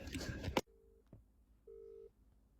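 A telephone call to the High Court of Australia rings out: a brief burst of noise cuts off, then two separate steady ring tones sound, each under half a second, clean and close.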